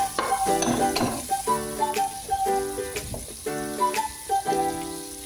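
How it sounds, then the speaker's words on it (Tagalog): Onions sizzle steadily in a hot pan, stirred now and then so that repeated scraping and clinking from a utensil rise above the frying hiss, loud and close, with no voices. "Cook the onion until this one is like wilted."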